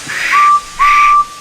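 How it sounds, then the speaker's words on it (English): A guard's whistle is blown twice on a railway platform, two loud, shrill, steady blasts with a short gap between them, heard clearly with no talking. "He ran onto the platform, blew his whistle, and jumped into his van."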